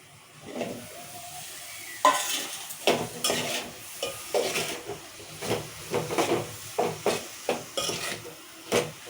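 Onions frying in a pan for a potato and peas curry, a steady close sizzle with repeated scraping stir strokes of a spoon against the pan, growing rhythmic toward the end, with no talking.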